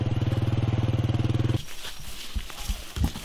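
Motorcycle engine climbing a steep mountain road in the highlands, a steady rhythmic throbbing drone for about a second and a half, then cutting to quieter rustling and scattered knocks.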